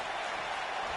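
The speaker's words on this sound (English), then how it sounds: "fans are starting to applaud here" Wrestling fans at an AEW Dark event applaud in a dense, steady wash of clapping from a crowd, brief and even throughout.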